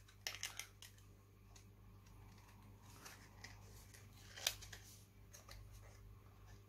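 Scissors snipping paper while cutting out a birthday card, a few sharp close snips scattered over several seconds against a low steady hum.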